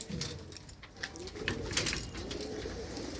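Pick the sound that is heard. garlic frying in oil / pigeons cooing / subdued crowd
pigeons cooing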